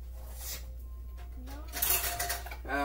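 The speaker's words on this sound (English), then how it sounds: "I'm gonna give you a large spoon." A large spoon clinks and rattles among dishes and cutlery in a kitchen, producing brief metallic scrapes and taps under a steady low hum, with a person talking over it.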